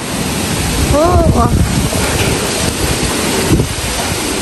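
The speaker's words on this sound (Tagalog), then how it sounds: "Ngayon po ay hangin ng malakas." Strong wind roars steadily into the microphone during a wind and rain storm near coconut palms, a loud broadband rush with a faint voice briefly audible underneath.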